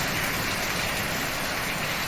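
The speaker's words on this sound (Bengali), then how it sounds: "খুবই সুন্দর বৃষ্টি।" Heavy rain pours during a nighttime cyclone storm, a dense, unbroken roaring hiss that stays loud and steady throughout, with no voices.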